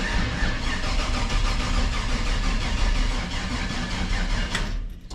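A 1968 Chevy C20 pickup's engine cranks over with the starter in a loud, steady, churning rhythm that stops abruptly near the end, without talking.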